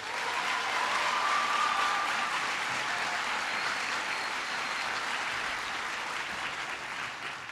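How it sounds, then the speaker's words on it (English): A large indoor audience at a political gathering claps in sustained, dense applause that holds fairly steady and fades slightly toward the end, with no talking over it. "Please give him a big round of applause."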